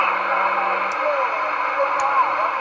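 AM channel audio from a Cobra 29LTD 40-channel CB radio: steady hissy static with a garbled voice bleeding over from a neighbouring station, plus a couple of faint clicks.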